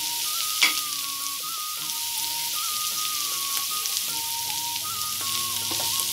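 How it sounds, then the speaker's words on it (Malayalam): Capsicum and onion sautéing in hot oil for a Kerala-style prawn fry, a continuous crackling sizzle with occasional clinks of a spatula, close and steady with no talking. "അപ്പോൾ ഇത് നന്നായിട്ടൊന്ന് വഴറ്റിയെടുക്കാം."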